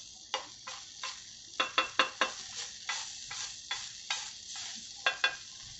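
Onion and tomato scraped aside with a spatula on a hot tawa for egg pulao: a dozen or so sharp, uneven scrapes and clacks over a low, steady sizzle, close and alone.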